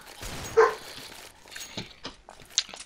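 A voice imitates a dog, giving a few short yipping barks spaced unevenly over a couple of seconds, fairly close and moderately loud.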